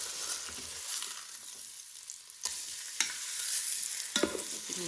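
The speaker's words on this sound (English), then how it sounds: "once it's had time to sizzle a bit" Chicken breast sizzles steadily in a hot Ninja Foodi pan, with a few sharp clicks and scrapes of stirring or turning.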